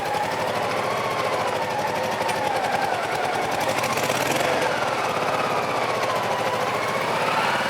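Close, continuous idle of a Honda PC-800 motorcycle engine warming up, a busy rattling tick over a steady drone with slight wavering in pitch.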